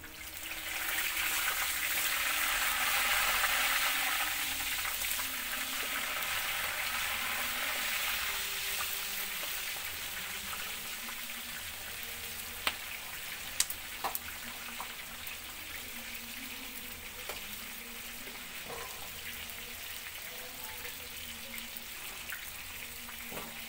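Peppers fry over an open wood fire at a Romani wedding iftar cooking setup, giving a steady close sizzle with watery crackle and a few sharp pops and clicks throughout.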